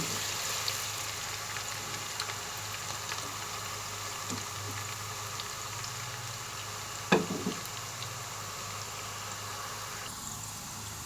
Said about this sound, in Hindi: प्याज को हम एक गोल्डन ब्राउन होने तक चमचा चलाएंगे, गोल्डन ब्राउन होने तक।